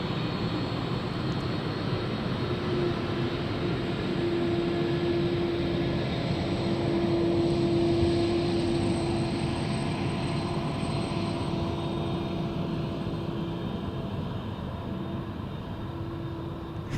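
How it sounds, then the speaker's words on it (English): Boeing 757 cargo jet at Memphis airport, a steady broad engine roar with a faint tonal whine, continuous and moderately loud throughout. "A 757 from Lubbock, Texas"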